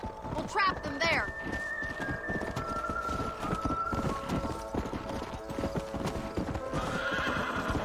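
Horse in Red Dead Redemption clip-clopping steadily at a run with a loud neighing whinny near the start, hooves continuing under a dense game soundscape with other sounds layered over it.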